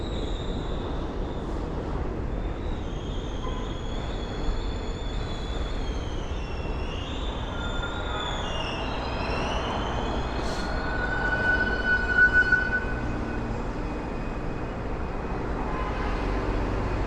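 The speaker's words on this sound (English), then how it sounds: "So we got a train coming into the station." A subway train rolls into an elevated station on Brooklyn's Ocean Parkway line, a long steady rumble of wheels on rails with faint high squeals and brake hiss, loud and sustained throughout.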